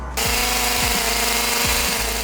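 Gasoline chainsaw running loud and close, a steady high engine whine with rhythmic revving surges as it cuts into a heavy live edge wooden slab, no talking.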